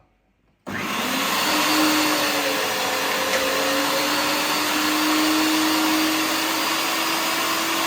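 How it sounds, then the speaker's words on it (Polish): An electric meat grinder grinds pork shoulder for homemade garlic sausage, a loud close steady motor drone that starts suddenly after a brief quiet moment and continues unbroken. "I teraz pozostałą część mięsa, czyli łopatkę, mielę na szarpach."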